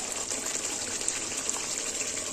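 Water poured into a simmering gravy with fried paneer, a soft continuous splashing gush, fairly faint and steady for a couple of seconds.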